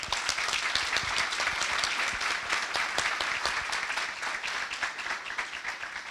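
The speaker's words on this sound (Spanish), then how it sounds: "un aplauso que nos acompañó" Audience applause at a livestock-and-climate results presentation, a steady dense wash of many hands clapping that holds for several seconds at moderate level, tapering slightly toward the end.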